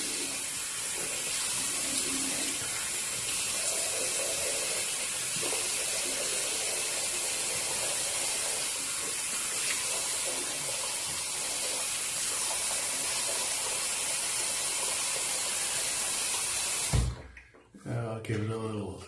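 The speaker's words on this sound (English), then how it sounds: "Okay, let's give it a rinse." Merkur 37C slant safety razor rinsed under a running tap, a steady broad splashing hiss of water that runs without a break for about seventeen seconds, then cuts off into a few brief knocks and drips at the end.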